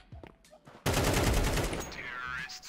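Rapid rifle fire in Counter-Strike 2, a dense continuous burst of shots starting abruptly and running loud for about two seconds, preceded by quieter game sounds.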